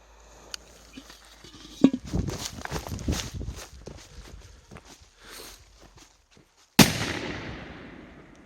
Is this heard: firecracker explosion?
yes